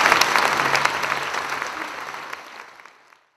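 Audience applause at a theatre award ceremony in Vanadzor, a dense burst of many hands clapping that starts strong and gradually dies away to silence over about three seconds.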